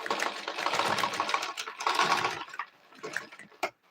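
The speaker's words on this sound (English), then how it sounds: "I'll go ahead and stitch this." A sewing machine runs fast stitching fabric for a simple child's dress, a close continuous whirring rattle that pauses, then gives a few short bursts before stopping.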